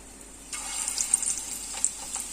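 Kababs frying in oil over slow heat, a soft steady sizzle that starts abruptly and continues with small crackles and pops, close and alone.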